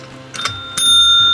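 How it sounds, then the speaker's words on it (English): A small bell rings twice in quick succession, close and bright, with a lingering metallic ring that hangs in an otherwise quiet indoor room. "we get to ring my bell"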